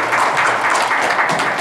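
Brief, dense clapping rises from the audience at a news platform launch ceremony, a short even burst of applause with no pause.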